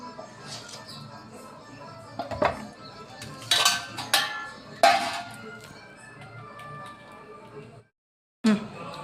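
A metal pressure cooker pot is handled and set down while being filled in a home kitchen, giving loud clanks and scrapes with some rattling clinks, ending in a brief silence and one final knock.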